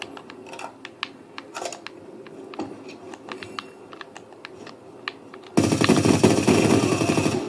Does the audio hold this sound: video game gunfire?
yes